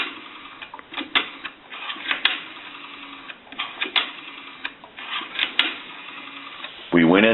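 Rotary dial of a three-slot AE payphone, cleaned, oiled and adjusted, spinning back with a run of quick mechanical clicks and ticks, close and fairly clear, ending in a brief louder whir.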